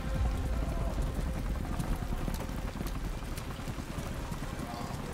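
Rain hitting the ground in the video game Modern Warfare 3, a steady dense patter that fills the whole stretch alongside busy game noise, with voices talking over it.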